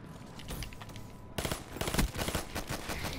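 Rapid automatic gunfire bursts out in Call of Duty: Black Ops, loud and close after a quieter opening, with dense clattering shots running to the end.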